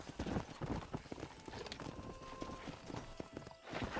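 Horse hooves clip-clop steadily and briskly at close range as a rider travels a mountain trail in Red Dead Redemption, with a brief whinny in the mix.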